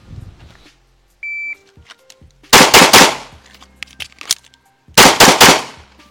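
A handgun fires in a timed shooting drill: an electronic timer beep, a fast string of loud close shots, a short pause for a reload, then another rapid burst of shots.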